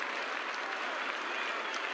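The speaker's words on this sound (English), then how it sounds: "The West Indians in the crowd going absolutely berserk" A cricket crowd at the WACA ground in Perth, with West Indian supporters celebrating, claps and cheers in a dense continuous roar, distant and sustained, with no commentary audible.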